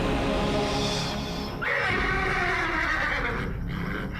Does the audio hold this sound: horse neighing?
yes